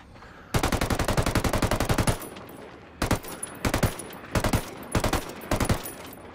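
A rifle in Ghost Recon Wildlands fires a long rapid string of shots, then several short three-round bursts separated by brief pauses, loud and close with no talking.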